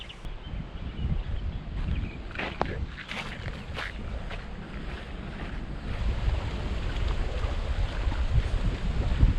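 Steady wind rushes and buffets the microphone near open water at a truck campsite, a constant low roar that swells slightly louder toward the end.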